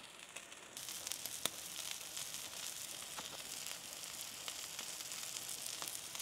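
Smash burger patties frying in a hot pan, a continuous bright sizzle with sharp crackles and pops scattered through it, steady and fairly soft, with no voices.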